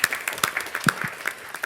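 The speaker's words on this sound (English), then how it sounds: "can we give Deborah a round of applause?" Brief applause from a business forum audience, a short burst of scattered, fairly distinct hand claps at moderate distance.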